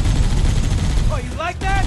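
Rapid gunfire from the video game Halo CE Anniversary roars loud and dense, with a voice talking over the shooting toward the end.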